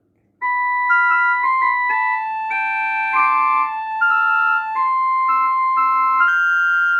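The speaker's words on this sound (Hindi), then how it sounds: "ये वॉयलिन की आवाज रहती है।" Violin playing a simple melody of sustained, smoothly connected notes, clear and moderately loud, heard alone with no talk over it.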